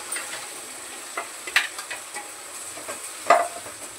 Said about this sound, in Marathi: आता हे वाटण चांगलं परतून घ्यायचंय.